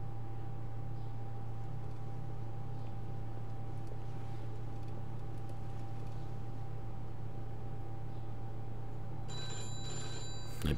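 A telephone rings in the video game Mafia 2, set in Oyster Bay in 1951. One short ring comes at the very end, over a steady low room hum.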